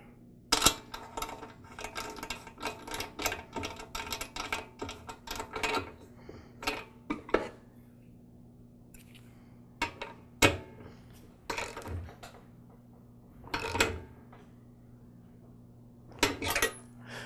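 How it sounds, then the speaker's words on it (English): Metal parts clink and ratchet intermittently as a nut is tightened onto the flywheel of a Troy-Bilt TB130 lawn mower, producing sharp, close tool clicks in scattered bursts over a low steady hum. "And I'll secure the flywheel with the nut."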